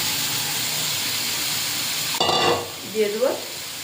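Pointed gourd, shrimp and boiled potatoes go into hot spice paste in a pan, setting off a sudden loud sizzle after a steady low frying hiss, followed by brief scraping stirs.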